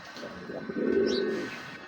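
A single soft, throaty pigeon coo swells up midway, close and moderately loud, over a quiet background hum.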